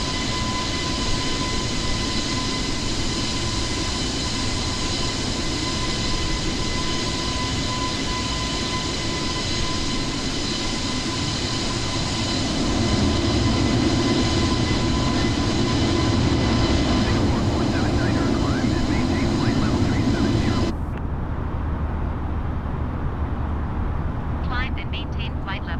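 A32NX airliner climbing in Microsoft Flight Simulator 2020 on a flight from Cape Town to Johannesburg, a steady loud engine drone with a high whine that holds, then drops abruptly near the end, with faint talk.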